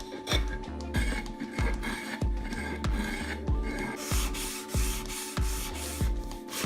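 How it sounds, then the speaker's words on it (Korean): Steady back-and-forth strokes of sandpaper rasp against wood, sanding a filled patch of sawdust and glue, about a dozen rhythmic rubbing passes, close and fairly quiet, with no talking. "메꾼 부위는 다시 사포질합니다."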